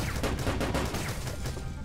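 Rapid gunfire from guns in the video game Starbound, dense overlapping bursts that stay loud and continuous for a couple of seconds.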